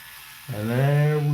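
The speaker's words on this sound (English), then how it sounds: "This is not a huge head on this electric T-shaped trimmer." An electric T-shaped hair trimmer switches on after a brief silence and settles into a loud, steady, close-up electric buzz.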